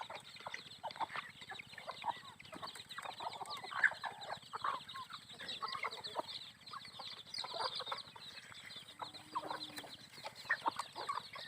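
A hen clucks softly among small chicks, whose high, thin cheeps repeat throughout at close range over a quiet background.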